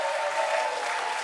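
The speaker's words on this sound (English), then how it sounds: "Let's give them a big round of applause." Wedding reception guests applaud, a dense, continuous wash of clapping from a roomful of people, loud and steady throughout the short stretch.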